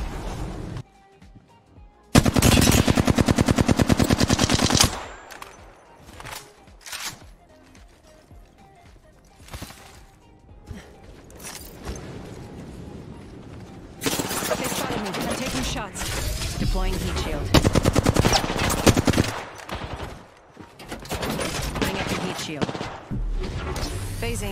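Video game gunfire from a battle royale match, with loud rapid bursts of shots in two dense stretches alongside other game sounds, one burst early and a longer, sustained exchange later.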